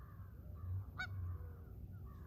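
A single short Canada goose honk sounds at a moderate distance over a low background rumble, with no other calls following.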